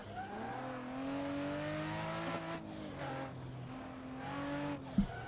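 Car drifting on a mountain road in Assetto Corsa, engine holding a steady high drone with shifting harmonic pitch and tire squeal running throughout, loud and continuous with a brief knock near the end.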